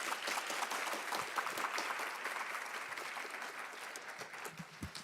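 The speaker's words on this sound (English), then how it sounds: "Our panelists, would you give them a round of applause" At a conference panel session, the audience gives the panelists sustained, even applause that sounds somewhat distant in a large hall and slowly thins toward the end.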